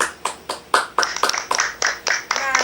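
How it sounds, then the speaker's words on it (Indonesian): A classroom group claps together in brisk, slightly uneven bursts, close and fairly loud, the applause fading out after a couple of seconds. "Berikan tepuk tangannya."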